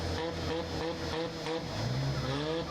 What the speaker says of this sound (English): You hear the car revving.